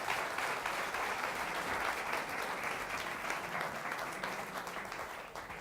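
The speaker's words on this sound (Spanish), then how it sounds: "Recibamos con un fuerte aplauso a Jordi Esteba." Lecture audience clapping to welcome a speaker, a full, continuous round of applause from many hands that slowly tapers off, fairly quiet overall and free of talk.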